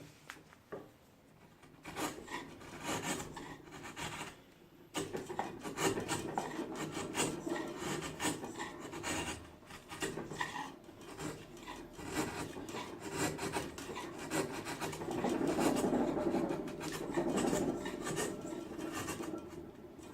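A hand rasp shapes a wooden guitar neck with repeated rough scraping strokes, close and fairly quiet, the strokes growing denser and louder toward the end, with no voices.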